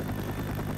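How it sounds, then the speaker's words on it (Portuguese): Steady helicopter rotor and engine drone from a Five Nights at Freddy's video game, a continuous mid-level rumble that fills the short moment without talk. "é só entrar no helicóptero"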